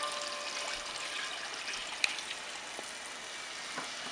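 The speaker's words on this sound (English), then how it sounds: "you're going to take your beef stock and just pour it in" Hot beef stock poured gently into a cooking pot, a soft steady trickle of liquid running for several seconds with a faint clink partway through, quiet and close with no talk.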